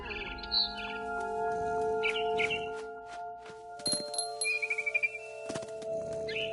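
A barn swallow in the video game What Remains of Edith Finch gives a few bright chirps returning to its nest, over a steady tonal game ambience, with a quick run of rhythmic clicks near the end.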